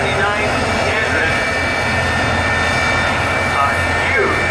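A huge J79 jet engine mounted on a truck at an auto race track roars continuously and loudly, a dense, steady blast of noise with no letup.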